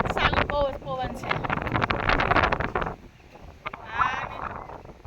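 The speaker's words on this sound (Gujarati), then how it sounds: "કરણ પવન ચાલુ, બહુ જ પવન છે." Strong wind at a dam during rain roars and buffets the microphone in gusty, rumbling waves, with people talking over it.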